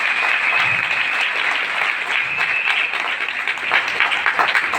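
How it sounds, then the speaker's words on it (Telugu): Loud, sustained applause from a seminar audience, dense clapping filling the whole stretch without a break, with a hint of voices underneath. "ఒక్కసారి మీకోసం మీ అందరూ క్లాప్ తీసుకుంటారు గట్టిగా."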